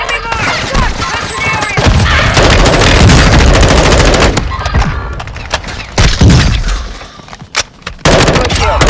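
Dense, loud automatic gunfire and booming mortar impacts in a Call of Duty Warzone match, bursts rattling continuously with heavy thuds and brief pauses, some voices mixed in.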